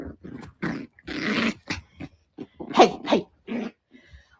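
A dog growls and whimpers in short, uneven bursts at close range, mixing low rumbles with higher whines. A man briefly calls out once among the sounds.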